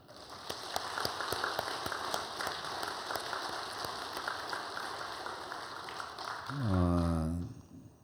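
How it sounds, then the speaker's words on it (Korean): A congregation at a church worship service dedicated to Sunday school teachers claps in a steady, fairly faint applause, ending with a brief sustained tone. "또 박수를 보냅니다."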